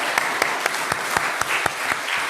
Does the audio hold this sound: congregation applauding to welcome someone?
yes